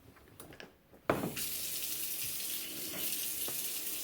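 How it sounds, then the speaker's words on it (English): Water from a kitchen tap runs into a sink through a newly installed garbage disposal. After a few faint clicks, a loud, steady gush of water starts suddenly and keeps flowing close by. "let's run some water through it to see if I got any leaks"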